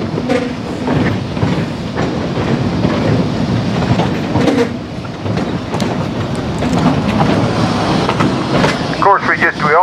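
Riding the Cumbres and Toltec narrow-gauge railroad, the train clatters steadily and loudly from close by, wheels rumbling over the rails with rhythmic clicks, while people talk over it and a brief squeal comes at the end.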